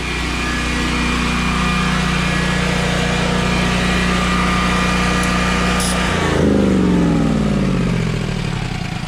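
A small Generac portable generator engine drones steadily and loudly, then its pitch drops and shifts as if under sudden load from a plugged-in drill, continuing to run.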